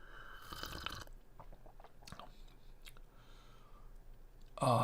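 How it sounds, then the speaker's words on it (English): Hot caramel truffle coffee is slurped up close in one brief, airy burst, followed by faint mouth clicks and smacks in a quiet room. "Let me take a little slurp."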